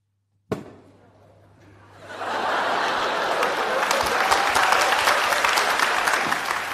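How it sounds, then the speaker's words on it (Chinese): A crosstalk show audience breaks into applause after a sharp opening bang, starting thin, then swelling to a loud, sustained, dense clapping that holds steady to the end. "我要演的好，您给鼓鼓掌"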